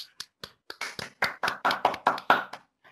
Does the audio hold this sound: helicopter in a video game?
no